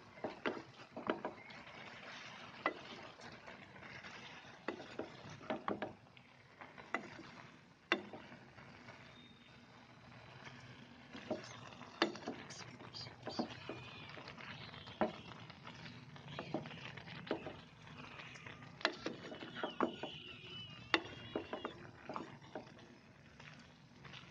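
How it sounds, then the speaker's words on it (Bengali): A spatula stirs spices into bottle gourd (lau) fry in a pan, making irregular close scrapes and clicks over a soft sizzle, with no voices. "এবার নেড়ে দিতে হবে মশলাগুলো যেমন ভালোভাবে মেখে যায়।"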